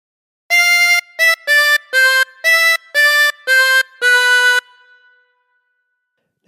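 A tremolo harmonica plays a phrase of All Through the Night, eight clear reedy notes with a wavering shimmer, some short and some held, loud and close, ending in a fading sustain and then silence.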